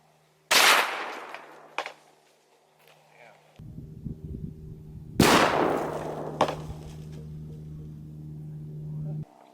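Two sharp .223 rifle shots firing Hornady 40 grain V-Max varmint bullets crack loudly outdoors several seconds apart, each followed by a decaying echo, with a steady low engine-like hum running between them.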